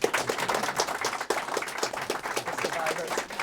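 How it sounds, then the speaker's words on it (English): Audience at a public health forum applauding the panelists, dense even clapping filling the room at moderate level, with faint voices underneath. "Please a round of applause for them."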